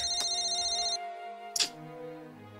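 A mobile phone ringtone plays a melodic, steady electronic tune, stops for a moment, then starts again, close and clear with no talk.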